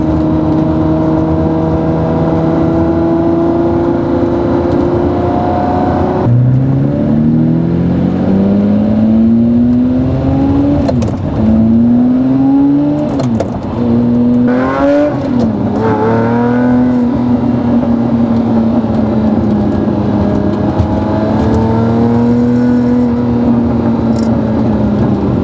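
A Lamborghini Murciélago on a road test drive growls through long gears, its engine note climbing steadily, dropping sharply on a shift and climbing again, loud and close for the whole stretch with no talk.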